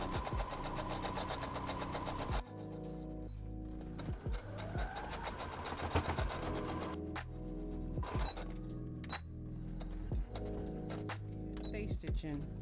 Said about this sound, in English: Stay stitching so that when you turn your mask inside out, your stitches don't start coming out.